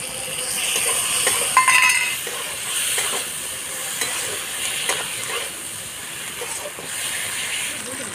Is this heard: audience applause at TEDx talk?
no